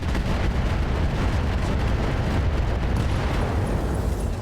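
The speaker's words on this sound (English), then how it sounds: "Rack 5 ammo explosion there." An ammo explosion in the RogueTech mech combat game produces a dense, sustained rumbling blast that stays loud and steady with no speech over it.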